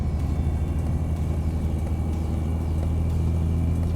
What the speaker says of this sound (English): very nice sounding engine